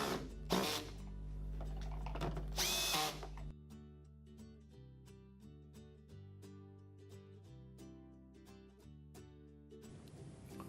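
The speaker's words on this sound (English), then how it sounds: "Connect the hose casing together using a drill or Phillips head screwdriver." A power drill drives screws to join the plastic casing of a garden hose reel, with two short whirring bursts near the start over steady background music.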